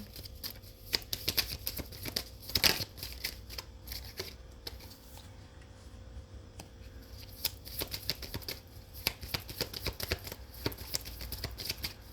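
Tarot cards being shuffled in a quiet room, a long run of soft, papery riffling and flicking bursts that come in uneven clusters, close and moderately loud, with no voice.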